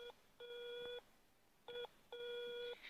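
An old landline telephone gives repeated steady electronic ring tones, two short bursts and two longer ones with gaps, unanswered and faint behind a quiet background.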